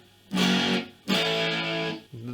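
A soft fuzz from an LM386 amplifier circuit plays two loud, buzzing distorted notes, each trailing off into a hiss-like, slightly gritty tail, then a quieter third note starts just before the end.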